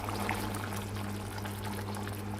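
Thick sardine fish curry being poured into a serving bowl, a steady close liquid flow with a low continuous hum underneath, no talking.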